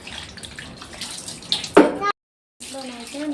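Water is poured over a small child during a bath, a short splashing gush that ends abruptly, followed by faint indoor sounds after a moment of silence.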